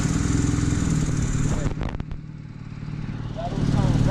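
A Honda Civic EF engine fires for the first time and runs rough: a loud, lumpy idle stumbles and nearly dies with a few sharp pops, then surges back up to a steady rumble.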